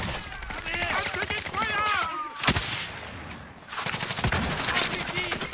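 Gunfire in Call of Duty Warzone rings out in sharp shots and short bursts, with excited voices shouting between the shots.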